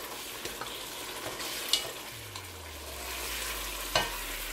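Chicken simmering in a mustard and onion sauce over medium heat is stirred, giving a faint soft bubbling hiss with two brief scrapes of the spoon against the pan.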